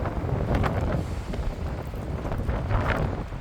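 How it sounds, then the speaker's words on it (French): Strong wind gusting across an outdoor tennis court, a loud rumbling buffet on the microphone that swells and eases in uneven surges over a few seconds, with no talk. "Parce qu'il y a énormément de vent"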